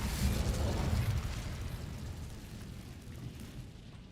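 In the Hogwarts Legacy video game, an Incendio fire spell goes off with a loud, rumbling burst that slowly decays into a fading roar over several seconds.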